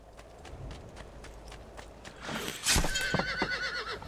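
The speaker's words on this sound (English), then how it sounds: "Hey, let's steal a horse." In the video game Assassin's Creed II, clopping horse hooves patter along quietly, then a loud, close horse neigh breaks out and is followed by more hoofbeats and snorting.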